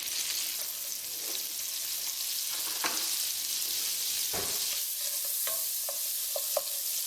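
Butter and olive oil sizzle steadily in a pan over medium heat, a continuous close hiss broken by occasional sharper pops and crackles.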